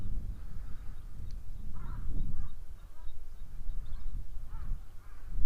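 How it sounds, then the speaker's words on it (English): Pied crows cawing outdoors in the wild, several harsh calls repeating at intervals over a steady low rumble of wind or background noise, fairly close and clear. "the crows, which are the pied crows that we get here"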